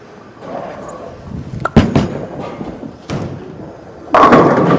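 A Radical Hitter Pearl bowling ball rolls down the lane and crashes into the pins, giving several sharp thuds and a loud clattering burst of pin action near the end.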